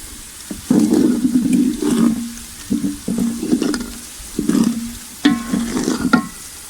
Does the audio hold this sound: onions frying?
yes